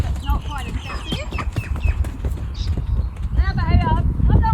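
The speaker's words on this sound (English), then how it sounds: "So as you can see, he's quite a light horse, quite a sensitive horse." A light, sensitive off-track Thoroughbred's hooves clip-clop through a wet round yard in irregular steps, with someone talking throughout and a rooster crowing in the background.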